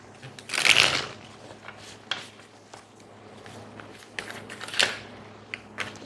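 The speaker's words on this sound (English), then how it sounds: "Let's get one shuffle." Tarot cards being shuffled by hand, close and crisp riffling bursts with softer shuffles and taps between them, no talking.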